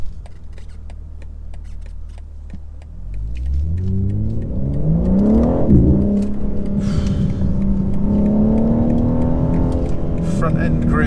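A 2023 BMW M4 Competition xDrive's engine revs hard as the car accelerates, rising from a low idle-like drone into a loud climbing rasp with gear-change dips, close and continuous under an occasional driver's voice.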